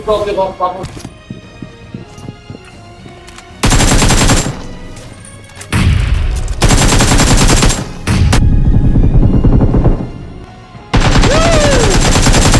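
AKM assault rifle fire in a battle royale mobile game, loud rapid full-auto bursts in several separate stretches separated by brief pauses.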